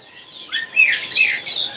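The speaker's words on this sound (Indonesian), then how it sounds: "Falak atau parakeet Australia." Budgerigars at a bird market give bright, close chirps and warbling squawks in quick bursts, loud and unaccompanied by talk.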